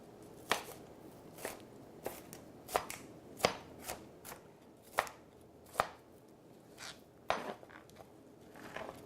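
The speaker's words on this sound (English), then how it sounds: "gonna get this all together and start cutting" Knife chopping ingredients on a cutting board, about a dozen crisp cuts at an irregular, unhurried pace, close and clear with no talk.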